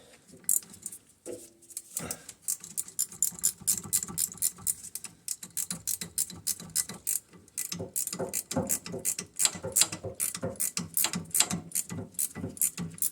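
Ratchet tightening half shaft fasteners in a cramped spot under a car, quick bursts of clicking strokes repeated steadily and close by, growing denser toward the end, no talk.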